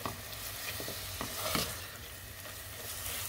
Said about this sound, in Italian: verserò gli spinaci nel pentolino. Li facciamo insaporire con la cipolla.